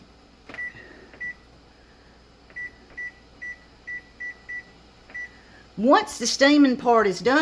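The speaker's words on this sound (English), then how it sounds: "I'm going to set the timer on my microwave." A microwave timer beeps several times in short, evenly spaced tones, then a person starts talking.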